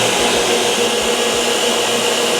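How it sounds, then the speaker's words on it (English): A machine with its filtration system running gives off a steady, loud broadband whir like a large blower, continuous and unchanging throughout, with a low rhythmic thumping underneath. "We're going to turn on the actual machine."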